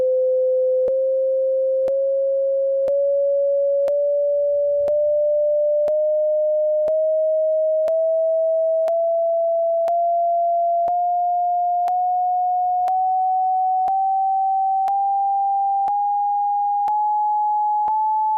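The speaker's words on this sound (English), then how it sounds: "these are the actual frequencies that you're going to hear of this new tuning" Pure sine tones at the frequencies of a new musical tuning, a steady sequence of short, evenly spaced notes stepping slowly upward in pitch, clean and alone.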